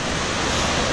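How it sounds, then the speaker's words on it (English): Waves washing onto a lake beach at Grand Park Lake, a steady loud broadband rush of surf with wind buffeting the microphone throughout, no pauses. "The waves have been crazy."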